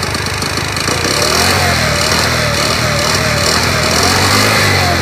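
A SYM Symply 4T four-stroke scooter, smoking heavily, runs right beside the listener with a loud, continuous engine drone that rises and falls slightly as the throttle is worked.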